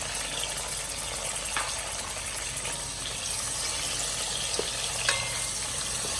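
Diced tomatoes frying together with onions for Ghanaian gari and beans street food, a steady broadband sizzle with soft stirring scrapes and a few small pops, close and continuous with no talk.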